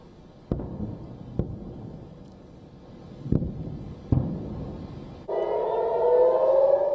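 A few sharp booms and thuds ring out in a quiet space, then a loud air raid siren starts wailing and rising in pitch, sounded in the community of Zikim in southern Israel during the Israel-Iran war.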